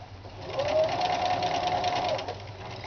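A sewing machine with a guide foot runs a fast, steady stitch while sewing a Christian head covering veil, a close mechanical whir that holds for about two seconds.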